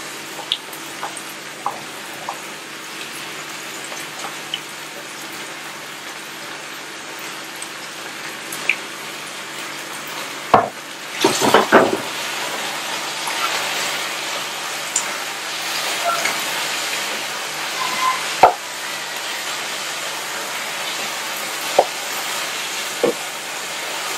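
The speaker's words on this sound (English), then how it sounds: "When you start perceiving the flavor of the onion, you now add your chopped tomatoes." Onions frying in a pan give a steady hiss and sizzle, and partway through chopped tomatoes drop in with a brief louder crackling burst before the sizzling settles back to a constant background.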